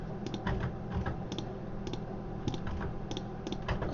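Keys on a computer keyboard are pressed in irregular bursts of quick, crisp clicks, close and fairly soft, with short pauses between runs.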